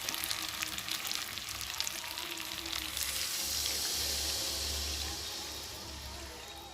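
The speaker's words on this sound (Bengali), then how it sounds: "চিকেন থেকে তেলও ছেড়ে দিয়েছে আর সুন্দর গন্ধ বেরিয়েছে চিকেন মশলা ভাজা ভাজা" Chicken pieces coated in masala fry in oil in a home kitchen pan, a steady close sizzle and hiss that grows slightly louder midway, with no talking.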